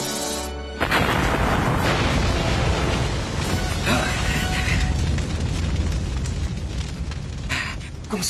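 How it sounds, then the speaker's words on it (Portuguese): A heavy cannon-like blast bursts out after a brief pause, followed by a long roaring, rumbling wash of noise that slowly fades. "Tiro de canhão!"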